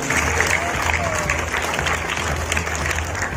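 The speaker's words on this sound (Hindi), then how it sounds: "हम चाहते हैं कि आप सभी लोग उनका जोरदार तालियों के साथ स्वागत करें" A school ceremony audience for Subhash Chandra's birth anniversary gives a guest a welcoming round of applause, steady crowd clapping over a low background hum throughout.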